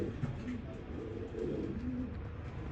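Low, throaty pigeon cooing repeats steadily over a dense, continuous background murmur, with several birds audible at once.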